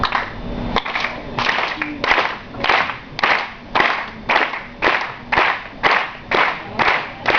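Audience clapping hands together in a steady rhythm at a live comedy club show, roughly one clap every two-thirds of a second, bright and fairly close, with no talk over it.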